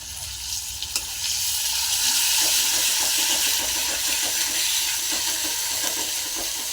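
Chicken gizzards fry with ginger and garlic in a pan, a steady close sizzle and hiss that swells after a quiet start, with light stirring scrapes ticking through it and no one speaking.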